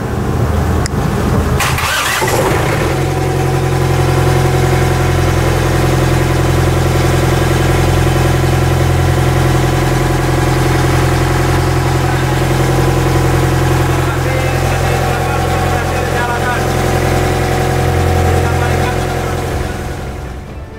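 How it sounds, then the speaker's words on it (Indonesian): Fishing boat engine cranks with a few sharp bursts, then catches and settles into a loud, steady, throbbing idle that runs on continuously, close by, with faint voices in the background. "Kita akan coba untuk start mesin kapal ikan"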